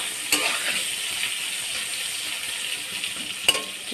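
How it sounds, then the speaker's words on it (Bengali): Eggplant stir-fries in oil with a soft, even sizzle close by, punctuated by two sharp clicks of a utensil against the pan. "বেগুনটা একটু ভাজা হয়ে গেছে, তেলের উপরে কষা হয়ে গেছে।"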